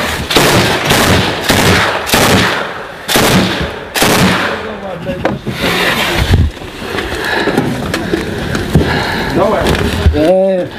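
Gunfire in a heavy battle for Debaltseve, with a burst of sharp, loud shots in the first four seconds, then sporadic cracks and constant combat noise under excited shouting voices.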